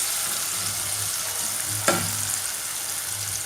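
Onions frying in oil and being stirred in a pan for Punjabi dal tadka, a constant close sizzle with one sharp scrape of the spoon partway through, no voices.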